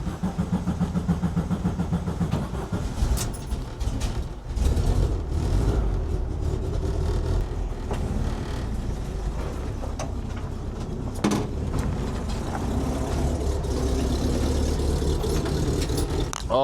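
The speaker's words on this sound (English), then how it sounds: "It's time to see if my bus starts." A 1952 split-window VW bus engine cranks with a steady rhythmic starter chug, then catches and runs roughly, settling into a loud, close, uneven idle with mechanical clatter and no talk.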